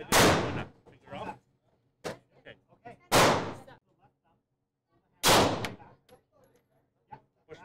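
Three loud handgun shots at a shooting range ring out a couple of seconds apart, each followed by clinks and handling noises, with a voice speaking between the shots.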